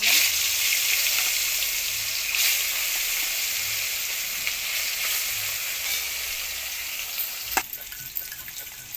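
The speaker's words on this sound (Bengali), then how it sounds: "কড়া গরম হয়ে গেছে আমি তেল দিয়ে দিলাম আর এই মাছ হলুদ আর নুন মাখিয়ে রেখেছি এক এক করে ভেজে নেব" Rohu fish pieces rubbed with turmeric and salt fry in hot oil in a heated pan, giving a loud, continuous sizzle with occasional sharper pops and spatters throughout.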